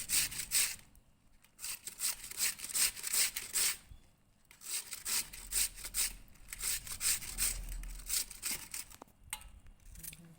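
A handheld scraper grates chayote, a rough, rasping scrape in rapid repeated strokes that come in bursts with brief pauses, close and fairly loud.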